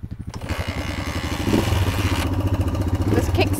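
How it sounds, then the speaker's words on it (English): A beginner rider kickstarts a motorcycle on an offroad mountain trail. The engine's rapid, loud, close-up putter swells and steadies, with mechanical clatter mixed in. "This kickstart gets stuck."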